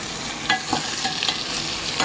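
A tempered Gujarati vegetable curry of brinjal and potato sizzles in the pan as water goes in, a steady close hiss with scattered pops and the scrape of stirring.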